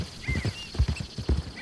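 Horse hooves clip-clop steadily while riding through Red Dead Redemption 2 game countryside, a close, even rhythm of paired hoofbeats repeating over a soft ambient background without talk.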